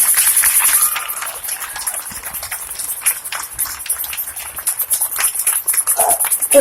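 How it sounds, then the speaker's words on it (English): Outdoor rally crowd at the 2018 Denver Black Women's March breaks into a dense, steady round of applause, moderately loud, with scattered cheers mixed in. "Let's give another round of applause for Ms. Dinsmore"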